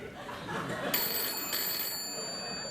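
A telephone rings on a late-night talk show set in electronic trilling bursts that start partway through, sounding over murmuring studio laughter and low audience noise.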